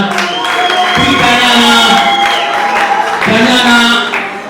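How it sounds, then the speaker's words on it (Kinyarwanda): A loud, dense crowd cheers and claps continuously, with whoops and shouting voices swelling in two waves. "Amashyi menshi cyane"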